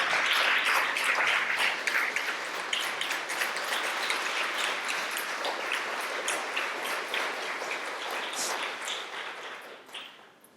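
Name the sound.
audience applause for the county board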